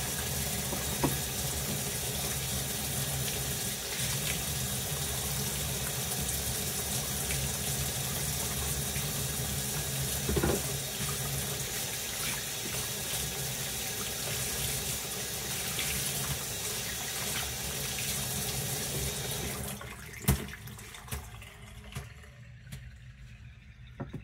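Tap water runs steadily into a sink during handwashing, a loud continuous splashing rush that cuts off near the end, leaving faint handling sounds.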